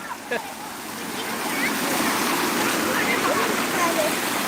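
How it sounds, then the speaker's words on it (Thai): Rainwater flows strongly at a Thai temple site, a broad steady rushing wash that swells after a brief knock and carries on continuously. "ตอนนี้น้ำกำลังเยอะขึ้นแล้วครับ น้ำไหลมาแรงแล้ว"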